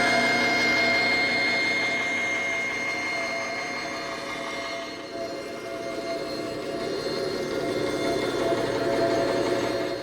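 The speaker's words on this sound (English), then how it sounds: "I'm just going to head over to the bandsaw and bandsaw along that straight line" A bandsaw cuts wood stock along a straight line in a woodworking shop, a sustained loud motor drone with steady blade whir that dips briefly midway and then continues.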